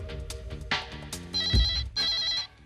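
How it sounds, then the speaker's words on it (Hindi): A telephone on a direct office line rings in a Hindi crime drama. Repeated electronic ring bursts play over a busy background of music and other sound. "शायद मेरे डायरेक्ट लाइन पर कोई फोन आया है"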